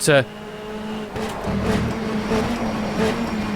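A modded BTCC touring car, rear-wheel drive with no traction control or ABS, running in rFactor 2 with a steady engine drone throughout, someone talking over it.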